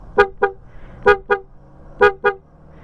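An aftermarket loud horn fitted to a Honda Click 125 scooter blasts three quick double honks, each pair a pair of sharp, bright, close toots separated by short pauses.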